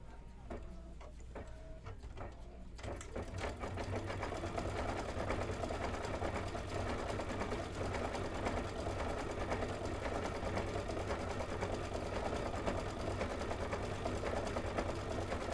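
A sewing machine runs a decorative stitch, its rapid mechanical ticking and whirring starting after a short pause and then continuing steadily and loudly to the end.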